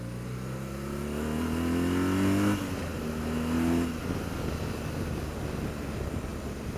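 BMW R1200 GSA motorcycle accelerating in first gear, its engine note climbing loudly in pitch, dropping briefly, then rising again before settling into rough rumble and wind noise, no voices.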